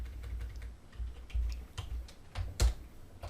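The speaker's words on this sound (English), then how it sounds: "Hold down the Alt key on your keyboard." Sparse keystrokes on a computer keyboard, including a held key, clicking in an irregular rhythm at close range, with one sharper tap standing out near the end and no talking.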